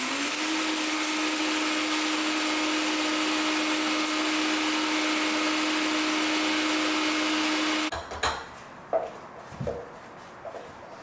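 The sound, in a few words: Vitamix blender grinding sambar spice powders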